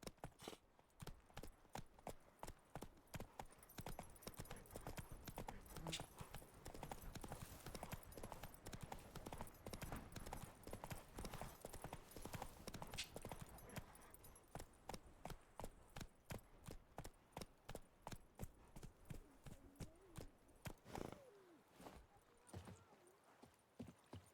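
Roach the horse galloping in The Witcher 3, with rapid rhythmic hoofbeats that run steady and dense, then loosen into a slower clip-clop near the end, with faint game ambience underneath.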